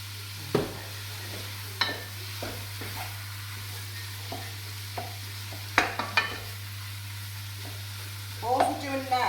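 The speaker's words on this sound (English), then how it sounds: "we're just basically browning the meat" Ground meat browning in a frying pan for lasagne, giving a faint steady sizzle under a constant low hum, broken by several sharp scrapes and clinks of a utensil stirring against the pan.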